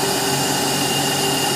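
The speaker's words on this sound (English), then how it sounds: "What you see here happening is compressed air swirling in the" Steady whooshing rush of compressed air swirling inside a simulated cylinder on an engineering prototype cylinder head for a reverse-uniflow engine, a continuous even roar with no breaks.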